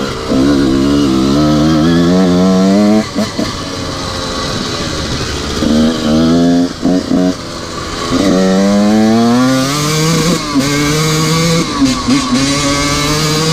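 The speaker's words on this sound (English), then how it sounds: "My bike's still not completely warmed up, but it's starting to get better." A Honda CR125 two-stroke dirt bike engine idles while warming up, its buzzing note repeatedly blipped into short revs and dropping back, loud and close throughout.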